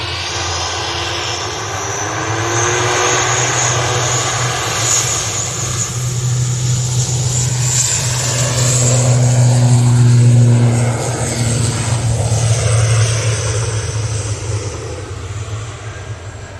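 An ATR 42 turboprop at Manchester Airport gives a steady propeller drone with a low tonal hum, swelling and fading over the span as it passes near.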